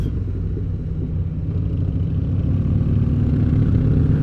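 A road vehicle's engine rumbles low and steady as the throttle is cracked during a left turn, the drone swelling slightly louder toward the end.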